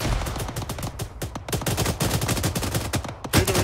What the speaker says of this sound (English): There's artillery coming in.